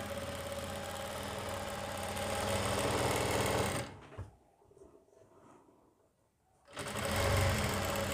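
A sewing machine runs steadily while stitching the collar of a designer kurti, stops for about three seconds, then starts up again close and loud with no talking.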